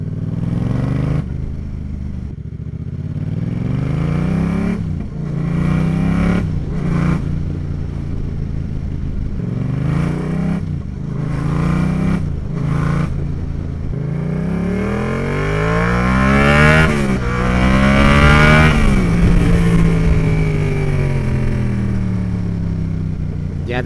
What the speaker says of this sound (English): let's hear some 2-cylinder exhaust goodness.